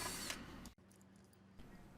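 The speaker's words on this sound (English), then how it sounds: "I'm using a shelf pin drill bit here, which is allowing me to put a hole centered in the hole here" A power drill with a shelf pin bit pre-drills a hole into a wooden torsion box assembly table, a loud close whir that cuts off abruptly, then a quieter hum with a brief burst near the end.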